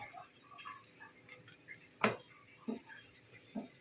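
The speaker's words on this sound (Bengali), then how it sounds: "আমি দুই চা চামচ ঘি দিলাম এখন নেড়ে চেড়ে মিক্সড করে দেবো" A spoon stirs vermicelli semai with ghee in a pan for sweet zarda semai, producing a few sharp scraping clinks of utensil against metal over a quiet room.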